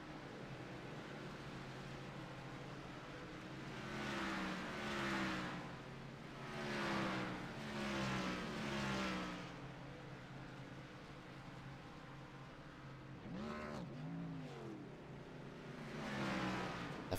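Race cars in a racing video game pass and rev near pit road on an oval at Kentucky, engines swelling and fading in repeated sweeps, fairly faint, with a brief sharper engine burst late on.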